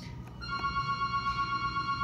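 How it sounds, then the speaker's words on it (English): A telephone rings with a steady electronic tone starting about half a second in and continuing to the end, moderately loud over a faint background. "I'm going to let that phone ring"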